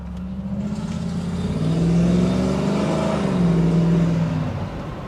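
A Cadillac Allanté on the road gives off a deep, organ-like engine drone, a smooth continuous hum that builds slightly in the middle as the car pulls along, with no voices.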